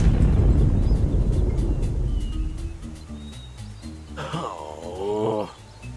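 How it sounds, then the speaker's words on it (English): A deep rumbling blast from the video game Loco Motive fades into low droning, followed by a sharp burst of rising, wavering tones that cut off abruptly. "That was quite the explosion."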